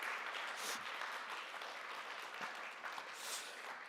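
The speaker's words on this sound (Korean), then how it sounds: "우리 박수로 한번" A church congregation claps to welcome a visiting pastor couple, a soft, distant, continuous patter of applause filling the large room for a few seconds.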